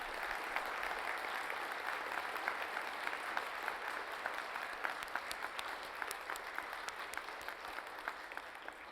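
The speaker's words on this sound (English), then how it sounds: "Please give them another round of applause." An audience at a public service award ceremony applauds steadily, a broad wash of many hands clapping that holds for the whole stretch with no pause.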